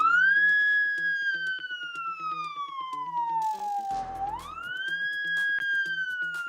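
A person imitates an ambulance siren with their mouth, a loud, close wailing tone that slowly falls, dips low with a breathy rasp, then rises and holds again, with no talk.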